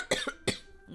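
Two sharp, close coughs in quick succession, loud and abrupt, followed by a quieter breathy tail.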